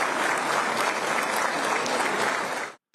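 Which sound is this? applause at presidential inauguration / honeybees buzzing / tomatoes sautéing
applause at presidential inauguration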